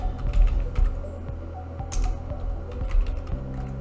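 Rapid keystrokes clatter on a computer keyboard in short bursts, close and moderately loud, with brief pauses between runs of clicks.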